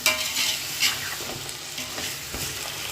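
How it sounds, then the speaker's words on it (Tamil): Potatoes with salt sauté in a pan, giving a loud, dense sizzle close by, with rhythmic scraping and stirring strokes throughout. "உருளைக்கிழங்கையும் போட்டு நல்லா வதக்கிக்கலாம். உப்பு போட்டு வதக்கிக்கலாம்."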